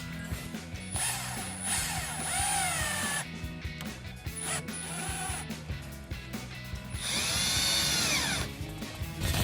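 A power drill drives black-head screws into an HDPE rear diffuser on a 2018-2023 Mustang GT, with several loud, close whirring bursts that rise and fall in pitch and short pauses between them.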